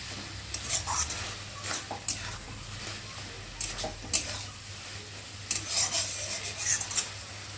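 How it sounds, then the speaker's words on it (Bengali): Banana flower (mocha) curry being stirred in a pan after sugar is added, with soft scraping strokes at an irregular rhythm over a low steady hum and faint background sizzle. "একটু ভালো করে নেড়ে দেবো"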